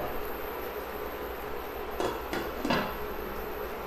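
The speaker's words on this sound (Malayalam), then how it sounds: "ഇനി നമുക്കിത് അടച്ചു വെച്ച് 5 മിനിറ്റ് വേവിച്ചെടുക്കാം" A metal lid set down on a pot of Kerala-style fish curry with mango, giving a couple of short clanks and a scrape against a steady kitchen hiss.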